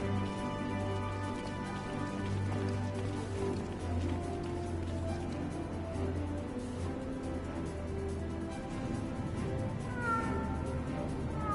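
A cat meows in the video game Final Fantasy 14, a soft call heard near the end over steady in-game music and a rain-like ambient wash.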